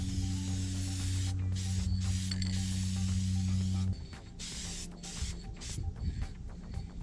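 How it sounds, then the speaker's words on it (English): A spray paint can hisses in a steady continuous burst for about four seconds while painting an aircraft cowling, then stops, followed by quieter shuffling and short spurts. "take our paint and we're going to go ahead and just evenly spray"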